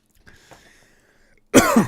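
Faint rustling and small noises, then a sudden loud, harsh cough burst near the end, close up, with a second rough cough right after.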